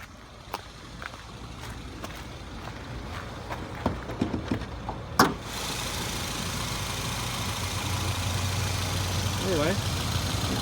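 A 13,000-mile engine in a 2011 Subaru Forester idles with the hood open, a steady low hum that rises after a few clicks and knocks, with speech over it.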